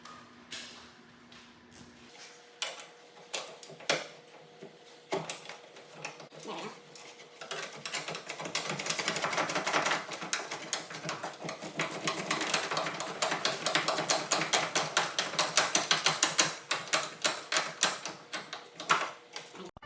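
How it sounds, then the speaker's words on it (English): Fast clicking of a small ratchet wrench turning a bolt during an L8T 6.6L engine swap on a Camaro SS, starting sparse and building into dense rapid ticking, close and fairly loud. "Tiny little ratcheting."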